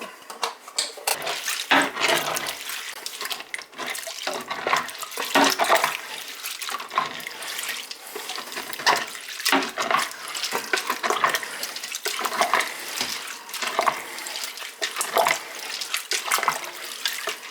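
Water poured into a pot of pea soup, a continuous splashing, gurgling stream heard up close with uneven surges throughout and no talking.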